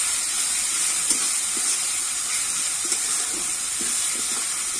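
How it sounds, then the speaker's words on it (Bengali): Tomatoes with salt frying in a pan for a jackfruit kofta curry, giving a steady close sizzle and hiss with a few soft stirring scrapes, and no talking. "এবারে ভালো করে নাড়িয়ে চাড়িয়ে টমেটোটা কিন্তু গলিয়ে নেবে"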